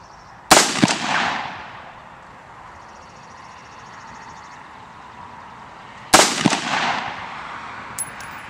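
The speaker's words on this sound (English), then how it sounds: "now we're going to take our first shots at 100 yards" Two sharp AR-15 rifle shots fired at a 100-yard target outdoors, about six seconds apart, each a loud crack followed by a ringing decay, with quiet between them.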